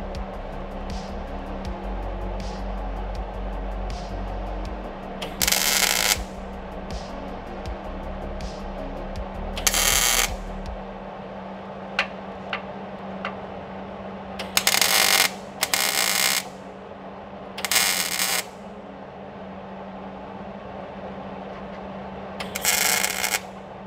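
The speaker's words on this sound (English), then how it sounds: "So let's break out the MIG." MIG welder laying short tack welds on a replacement car hood in a garage, several separate bursts of crackling buzz a second or so long, spaced apart over a steady low hum.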